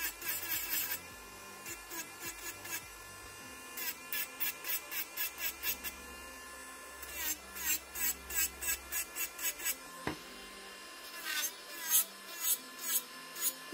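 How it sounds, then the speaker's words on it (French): Electric nail sander filing gel nails during a Babyboomer manicure, giving repeated short whining rasps in quick bursts of several strokes, close and fairly loud with pauses between passes; no talking. "la ponceuse, elle est vraiment adaptée hein, pour les techniques de pop-it"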